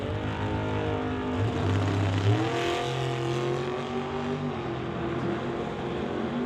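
A pair of drag racing cars launch off the line at a green light, engines roaring loud and steady with the pitch climbing as they accelerate away.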